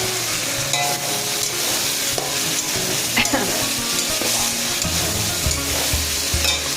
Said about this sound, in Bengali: দেখুন মশলাটা মোটামুটি কষানো হয়ে গেছে